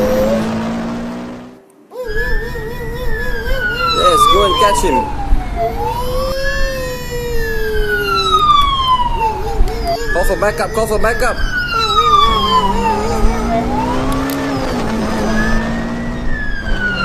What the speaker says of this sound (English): Siren sound coming in.